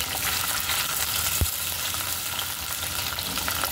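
Cut okra frying crisp in a pan for masala bhindi, a steady close sizzle with faint stirring scrapes throughout and a single brief knock.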